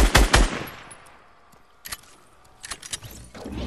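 Bursts of Fortnite gunfire crack loudly, a rapid cluster at the start, then scattered shots and a short volley toward the end, separated by brief quiet gaps.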